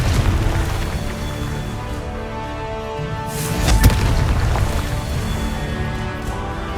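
A Confringo blasting spell explodes in the video game Hogwarts Legacy, one booming blast bursting out partway through over a low, rumbling background.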